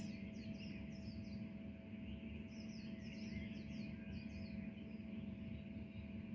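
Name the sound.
birds singing early in the morning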